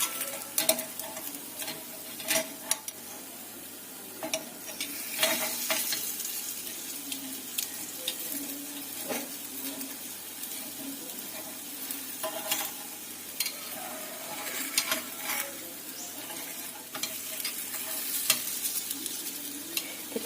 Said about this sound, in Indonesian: Kita panggang sampai kuning keemasan dan atas bawahnya itu matang.